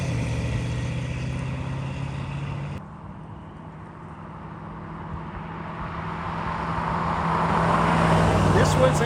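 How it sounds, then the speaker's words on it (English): A restored 1965 Ford F100 pickup truck drives on a road test, its engine droning steadily with road noise, dipping briefly and then swelling louder as it passes close by. "The next day, Jason took the truck for another shakedown"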